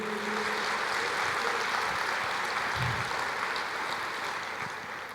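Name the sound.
church congregation applauding the Lord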